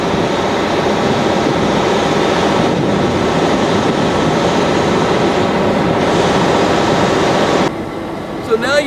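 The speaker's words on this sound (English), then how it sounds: "But this train is an old classic train." Steady rumbling noise of an old classic train on rails, continuous and fairly loud, running evenly before dropping slightly near the end, on the railway to the Grand Canyon.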